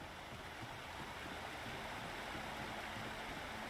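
River water rushing steadily below in Alan Wake Remastered, a broad continuous wash of flowing noise with no breaks, moderately loud and heard alone.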